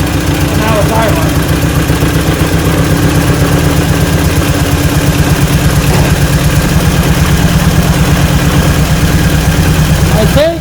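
A 1947 Willys engine idles steadily and loudly up close, a continuous low, even rumble with a rapid regular pulse that runs throughout, running on old ethanol gas.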